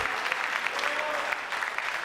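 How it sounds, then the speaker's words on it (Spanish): A church congregation applauding during a Spanish-language sermon, dense steady clapping from many hands filling the room, sustained and even throughout. "Denle ese aplauso fuerte al Señor,"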